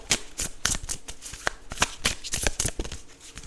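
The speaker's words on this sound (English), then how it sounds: "I'm going to pull one more card for you" Tarot cards being shuffled and drawn, a quick, close, steady run of papery riffles and snaps repeating about every quarter second.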